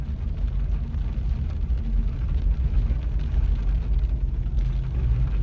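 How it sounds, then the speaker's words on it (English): Diesel V8 engine braking downhill in low-range second gear, a steady, heavy low rumble that holds an even level throughout with no talking. "Yeah, plenty engine braking there if you want it."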